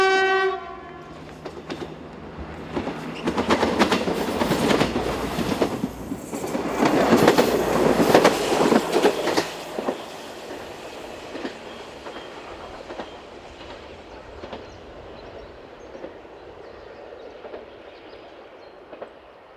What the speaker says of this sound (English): This is the 1018 Glogów Miasto to Wałbrzych Główny.